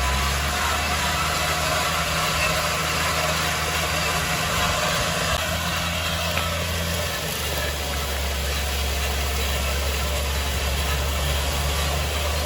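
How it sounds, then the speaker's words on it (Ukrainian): A tractor pulls a Sich 6 Pro no-till seeder through a field, its engine droning steadily and loudly with a constant low rumble throughout and no talk. "Так, перші метри нашої сівалки."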